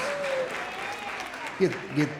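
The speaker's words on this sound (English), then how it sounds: "Let's give them a round of applause" Audience applause at a county junior livestock show for the champion heifer's young exhibitor, moderate clapping across the arena with a voice speaking over it and a few sharper sounds near the end.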